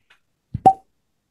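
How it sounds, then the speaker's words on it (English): A cork pops out of a three-chamber rye whiskey bottle, a single sharp hollow plop preceded by a brief soft squeak, close and isolated in silence. "even if the cork pop doesn't count"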